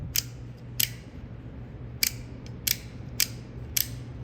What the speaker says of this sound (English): And that's how your ignition switch works.